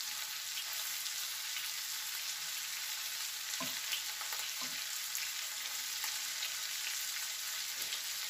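Tiger prawns sizzling in a frying pan, a steady crackling hiss throughout with a few soft clinks of stirring.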